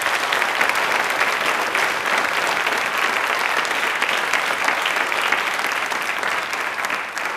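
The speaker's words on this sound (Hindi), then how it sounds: "एक बार तालियां ज़ोरदार बनती हैं" Loud, sustained applause from an audience at a Hindi language fortnight quiz event fills the whole stretch, a dense even clatter of many hands that tapers slightly near the end.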